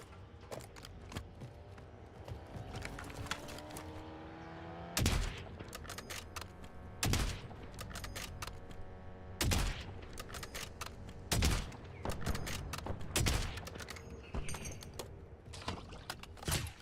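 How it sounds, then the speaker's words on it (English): Rapid bursts of gunfire from the video game Warzone crack out repeatedly over a steady rumble of in-game ambience, with sharp loud volleys spaced every second or two across the stretch. "I was missing a lot of shots there."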